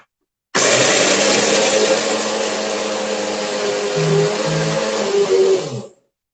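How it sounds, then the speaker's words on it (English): A kitchen mixer grinder runs continuously, a loud close whirring roar that starts abruptly, holds steady for several seconds with slight changes in pitch, then cuts off. "So now for some time you have to bear the voice of this mixer grinder."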